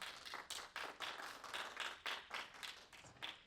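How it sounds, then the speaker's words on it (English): A tech meetup audience in San Francisco gives a soft, fairly distant round of applause, individual claps pulsing in loose, uneven waves at a low level throughout. "a big round of applause for Sasha"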